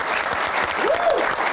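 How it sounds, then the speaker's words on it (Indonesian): Studio audience applauds university students on an Indonesian TV talk show, a steady dense clapping throughout, with a brief whoop or cheer rising above it midway. "Tepuk tangan juga dong buat teman-teman mahasiswa yang ada di sini."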